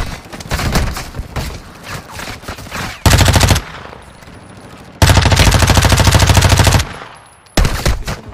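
Bursts of automatic rifle gunfire in the Warzone video game, with rapid, loud sustained volleys of several seconds separated by brief quieter gaps, following busier mixed shooting and game sounds.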